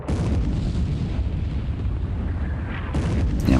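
Battleship guns fire in a naval war video game as the Yamashiro shoots at the Princess Royal. Heavy booming blasts roll into a sustained, loud rumble, with a fresh burst near the end.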